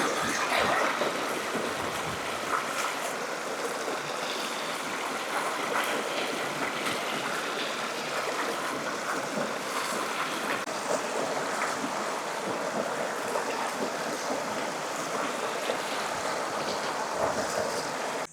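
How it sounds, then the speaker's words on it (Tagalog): Steady rushing water with a continuous broadband wash that stays loud and even throughout, wind buffeting the microphone at times and no talking. "Masarap na tayo yung lagas-gas ng tubig."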